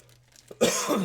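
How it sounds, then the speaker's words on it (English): A single harsh cough bursts out close by after a brief quiet moment, rough and throaty. "I apologize for all the coughing"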